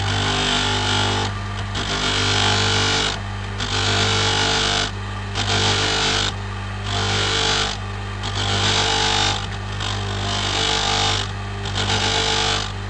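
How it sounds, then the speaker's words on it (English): A grinding wheel smoothing the surface of a disc spoon, with a loud steady whine that comes in bursts of a few seconds separated by short pauses as the piece is pressed on and lifted off. "This wheel will not take much material off anymore. It's just to get a smoother surface."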